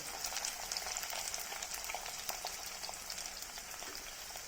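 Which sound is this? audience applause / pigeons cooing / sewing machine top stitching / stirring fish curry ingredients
stirring fish curry ingredients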